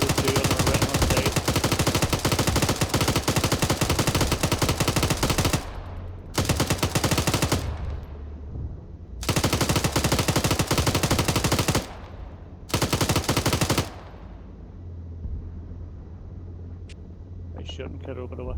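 Long bursts of rapid automatic fire from a tank's gun in the video game Arma 3, loud and close, cutting off and restarting in several volleys with quieter gaps between, where a voice is briefly heard.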